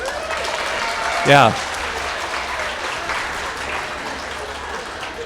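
Sustained audience applause at a college spring convocation greets a staff promotion to HVAC building and control engineer, a steady wash of clapping throughout with a brief spoken interjection near the start.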